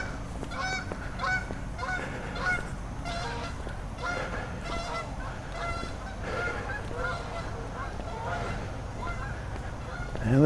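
Ducks call outside early in the morning, a steady chorus of honking quacks repeating throughout at moderate distance and fairly quiet, over a constant low background hum.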